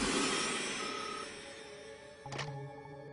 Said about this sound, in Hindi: तेजाली, इस कंपनी के दिल्ली ऑफिस में फोन करो।